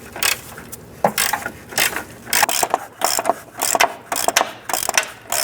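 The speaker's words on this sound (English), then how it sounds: "I'm going to put a 15mm wrench on the bolt head while we go ahead and remove the nut" A ratchet clicks rapidly in short repeated bursts, loud and close, as a nut comes off a control arm bolt on a 2005-10 Jeep Grand Cherokee while a 15mm wrench holds the bolt head.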